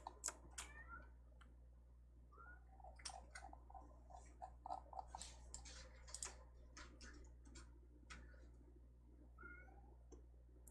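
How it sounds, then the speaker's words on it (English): A cat meows several times in the distance behind a steady low hum, with scattered soft clicks and taps in between. "Sorry about my cat out there."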